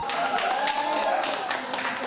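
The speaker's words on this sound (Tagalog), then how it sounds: "Walang tigil sa hiyawan at palakpakan ang fans sa tuwing makakapuntos si Ayala." Fans at a watch party in a sports bar in Pasig cheer and clap steadily, a dense, continuous wash of shouting and applause with a few voices rising above the crowd.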